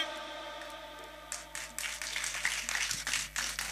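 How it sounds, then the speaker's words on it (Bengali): Audience applause at a live lifetime achievement award ceremony rises suddenly from near silence into a sustained burst of many hands clapping, growing denser and louder toward the end. "একটা জোরে হাততালি দিন"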